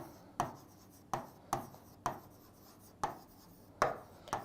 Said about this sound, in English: So we'll write it down.